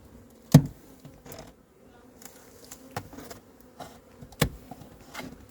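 A honey bee colony in a hive hums with a faint continuous buzz, broken by several sharp close knocks and thuds from handling the hive.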